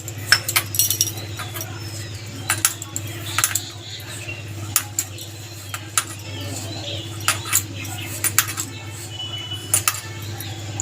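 A spoon clinks and scrapes against a metal bowl while coconut fritter batter is mixed with salt and sugar, giving light, irregular taps over a steady low hum, close by with no talking.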